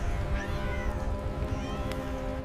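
Kittens meow inside an unfired clay pot, a run of high, insistent overlapping cries that are fairly close but muffled, over a low rumbling background.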